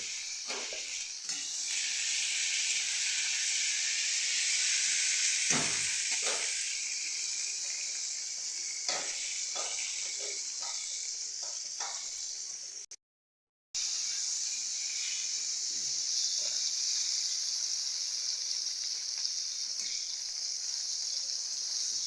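Vegetables for sukta fry in a pan with a constant high sizzling hiss, broken by occasional soft stirring knocks and a brief silent gap midway, with no talking.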